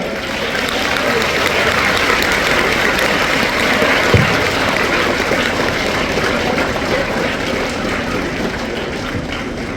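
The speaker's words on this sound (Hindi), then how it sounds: "अपने स्कूल के लिए ताली बजा के दिखाओ।" Schoolchildren clap for their school at a coaching-centre motivational event in India, a dense, loud, continuous roar of many hands lasting the whole time.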